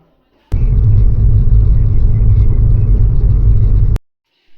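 A car driving along a road gives a steady, loud low rumble that starts abruptly, holds evenly for about three and a half seconds, then cuts off.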